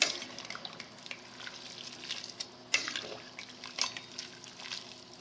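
Pasta and broccoli are stirred in a pot, with soft scraping and watery swishes, faint and close, broken by a few sharper clinks of the spoon against the pot.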